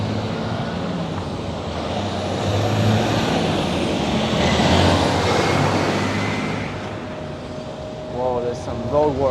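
A truck slows in Long Island City street traffic, heard from a bicycle: a close, swelling diesel engine roar with a faint whine fades as it decelerates, and a brief voice comes in near the end.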